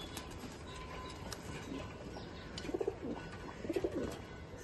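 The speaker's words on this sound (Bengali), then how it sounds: "আরেকটা পায়রা অসাধারণ পায়রা এবং টপ কোয়ালিটি পায়রা" Racing pigeons in a loft, birds being readied for winter competition, making soft throaty coos in two short bursts over a quiet background hum.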